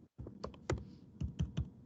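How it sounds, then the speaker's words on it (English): Computer keyboard typing in the background during an online talk on evaluation plans: quiet, irregular keystroke clicks with no voice over them. "there's some typing going on in the background and it's a little distracting"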